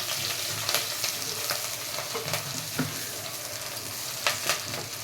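Sliced ginger and green chilli fry with onions in a pan, a steady close sizzle with occasional scraping stirs throughout.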